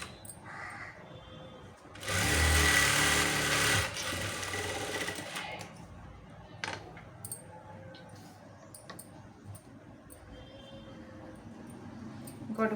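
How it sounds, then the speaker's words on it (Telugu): A sewing machine stitches blouse fabric in one loud, close buzzing run of about two seconds, followed by quieter handling clicks and taps. "ఇంకోటి కూడా స్టిచ్ చేస్తున్నాను"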